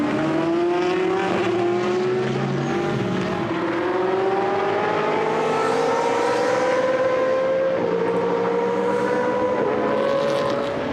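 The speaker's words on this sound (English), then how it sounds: "There's a late dive to the inside, and through goes the 48 car of Martin Lanting." GT sports cars racing at Misano, loud engine notes rising steadily in pitch as the cars accelerate past, with overlapping whines from several cars close by.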